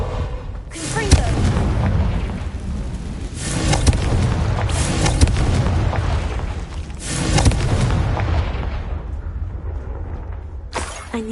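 Confringo blasting spell in a Harry Potter video game, loud booming explosive bursts rolling in repeated waves with debris crackle, one blast after another filling the whole stretch.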